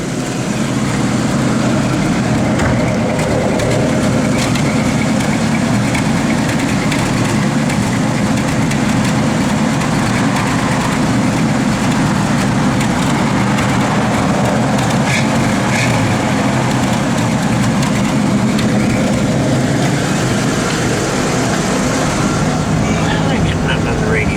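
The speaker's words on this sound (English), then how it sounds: "Blower motor does work" The heater blower motor in a 1965 Ford Mustang runs as a steady, close whirring drone that holds constant throughout, with a person talking over it.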